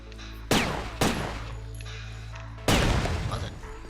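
Gunfire in the PS2 game Headhunter: three sharp, loud shots, two close together and a third after a pause, each with a decaying tail over a steady low game hum.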